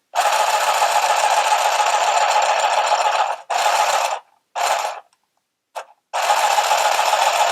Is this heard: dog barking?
no